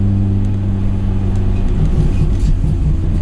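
A rented car pulls hard out of a corner on a race track, the engine droning loud and steady from inside the cabin with a low rumbling tone throughout.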